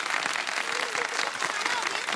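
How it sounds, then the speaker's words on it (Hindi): A studio audience on a TV show claps steadily at close range, a dense continuous patter of hands with voices talking over it. "तो ये ताली क्यों नहीं बजा रहे ये लोग? ताली बजाओ ना।"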